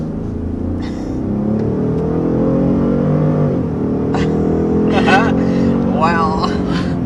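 A 2022 Ford F-150 PowerBoost hybrid pickup accelerates hard with a steady, rising engine drone and road rumble, while people inside talk and exclaim over it.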